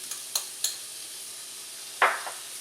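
Meat and egg for an omelette sizzle quietly in a frying pan, a faint steady hiss with a few short scraping stirs, one louder near the end.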